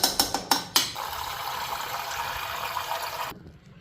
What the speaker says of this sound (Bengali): তো ওইদিকে চালটাও ধুয়ে নিলাম।